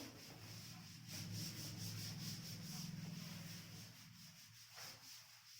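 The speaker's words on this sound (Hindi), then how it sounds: "ये मैं रब कर रही हूँ।" Rubbing on a board, a steady close scraping that continues for a few seconds and then tapers into quieter brushing, with no voices.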